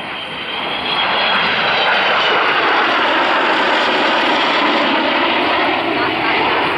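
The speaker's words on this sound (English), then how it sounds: "So here she is, Avro Vulcan Xh558." The Avro Vulcan XH558 jet bomber roars past at an air show display, a loud, sustained broadband engine rush that swells within the first second and holds, with a commentator speaking over it.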